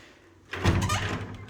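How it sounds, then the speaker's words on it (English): A heavy door in a castle is pushed open with a solid thunk followed by a short rumbling swing, close and fairly loud after a quiet moment. "This door that I've just opened opens into our grand dining room."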